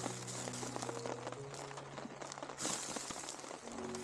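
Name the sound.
rain falling at campsite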